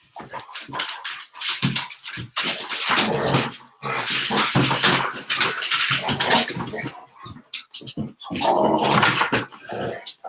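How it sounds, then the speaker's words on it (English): Several dogs, including a Cane Corso, fight with harsh snarls, growls and yelps in close, loud, irregular bursts separated by short pauses. "And now we're having dog fights."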